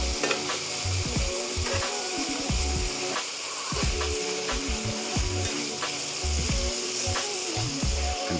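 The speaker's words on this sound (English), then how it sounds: "Just gonna give a last bit of frying." Coconut rum shrimp in their shells fry in a pan with butter and garlic, a loud steady sizzle broken by repeated stirring and scraping knocks, with no voices.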